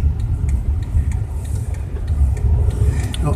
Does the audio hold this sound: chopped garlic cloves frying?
no